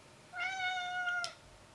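A single drawn-out cat meow, clear but fairly quiet, lasting about a second in an otherwise still indoor space.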